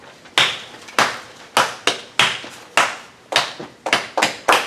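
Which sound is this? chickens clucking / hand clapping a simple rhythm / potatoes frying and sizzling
hand clapping a simple rhythm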